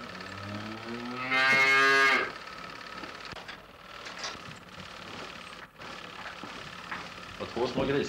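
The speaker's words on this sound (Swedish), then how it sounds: "här har vi två kor som nyligen har kalvat. Så därför står de inne i fähuset" Cows that have recently calved moo loudly inside a barn on a farm, one long strong bellow standing out clearly near the start, followed by quieter barn noise and movement.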